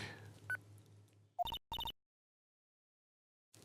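A telephone call in the Ace Attorney: Justice For All video game: a short electronic blip, then two quick clusters of bright dialing or ringing tones, silence, and another tone starting at the end, clean and synthetic.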